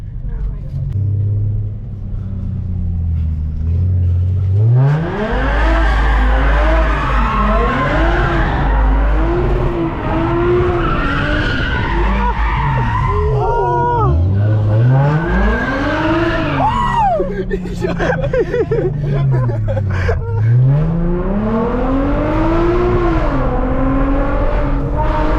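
Car at a car meet accelerating hard through the gears, loud close engine revs climbing and dropping with each shift, tire chirps in between, while people talk and shout over it.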